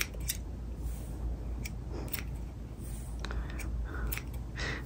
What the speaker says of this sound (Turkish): Şimdi püskül yapımı için yaklaşık 30-35 santim uzunluğunda ipler kesiyorum.